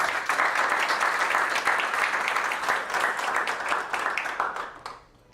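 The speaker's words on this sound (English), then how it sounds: "Let's give them a round of applause." A crowd applauds steadily for several seconds, the clapping dense and close before tapering off near the end.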